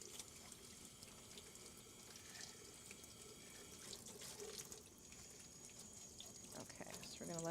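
Tap water runs over a sandcarved acrylic piece to rinse off abrasive: a steady, soft splashing rush that continues throughout at low level, with faint sounds from the room.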